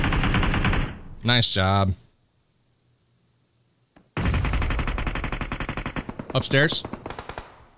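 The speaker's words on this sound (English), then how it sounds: "Headshot with the Groza!" Rapid automatic bursts from a Groza rifle in PUBG Mobile, with a loud stream of shots, a pause of near silence, then another long rattling burst that fades toward the end, while voices talk over the firing.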